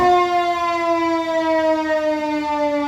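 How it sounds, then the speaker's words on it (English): A new fire engine's electronic siren holds a loud, steady wail from start to end, alone and up close, with no voices. "Siren."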